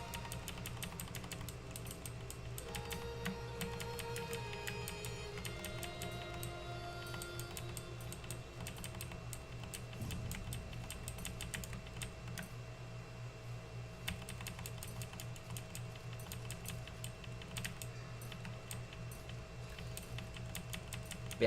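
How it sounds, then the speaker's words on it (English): Typing on a mechanical keyboard, a long run of quick, soft key clicks in irregular bursts, faint under a constant droning game background with tonal music. "So I apologize if my mechanical keyboard gets loud."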